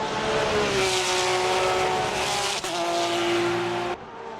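A One Cup race car spins out on track, its engine note sustained and loud with a smeared tire squeal and skid running for several seconds before a sudden cut, no voices over it.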